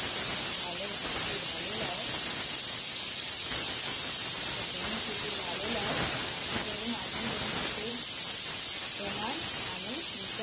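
A pressure cooker of mutton on the stove hisses steadily with escaping steam in a continuous loud spray, while someone talks over it.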